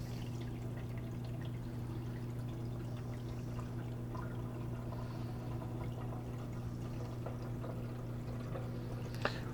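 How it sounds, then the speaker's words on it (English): Photographic fixer poured into a daylight film developing tank, a steady continuous liquid pour over a constant low hum, fairly faint, with a small knock near the end. "I'm going to grab my Fixer and pour my Fixer in."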